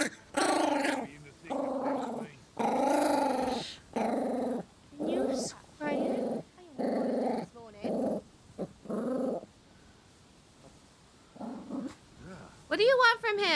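Puppies in the video game Dragon's Dogma II growl and pant close up in repeated short bursts, separated by brief pauses, with a couple of higher yips near the end.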